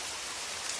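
Steady rain falls continuously and evenly, a dense, soft hiss of drops with no breaks, voices or other sounds.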